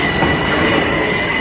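Tourist train ride at a pumpkin festival, a loud continuous rumble of rolling cars with a high metallic wheel squeal riding over it, heard close from on board.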